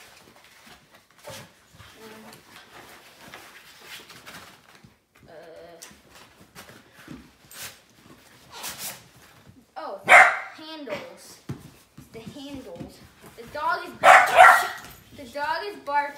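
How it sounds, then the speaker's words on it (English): A dog barks repeatedly in the background, the loudest yaps coming in bursts, while a person talks nearby during a go-kart unboxing. "The dog is barking."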